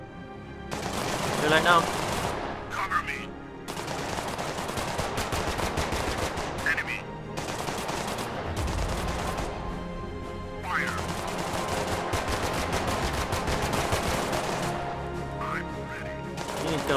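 Gunfire in the video game The Last Haven rattles in several long, loud bursts of rapid shots separated by short pauses, while someone talks briefly over the action.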